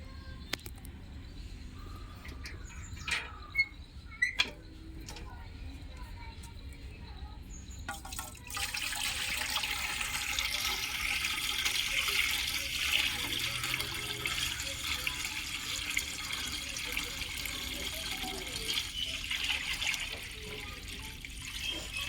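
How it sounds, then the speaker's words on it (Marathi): Water is poured into a pot for heating on a clay wood-fired stove, preparing for sago and potato papad: after some scattered knocks, a steady splashing rush of pouring water begins and continues close by for the rest of the clip. "हां, तेवढं पाणी वतलंय गरम होण्यासाठी"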